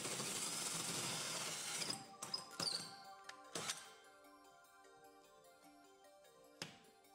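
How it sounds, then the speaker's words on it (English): A drill fitted with a 4-inch hole saw cuts through wallboard in a steady grinding burst, then stops, followed by a few sharp knocks and faint clicks in a quiet room. "Use your drill with a 4-inch hole saw to cut through the wallboard inside."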